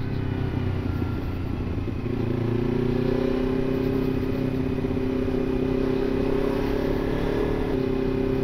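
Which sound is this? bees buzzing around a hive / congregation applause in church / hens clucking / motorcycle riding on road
motorcycle riding on road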